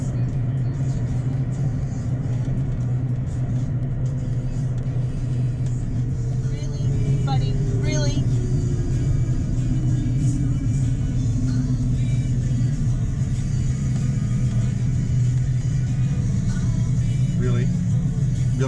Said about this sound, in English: So we are driving through the backwoods of Maine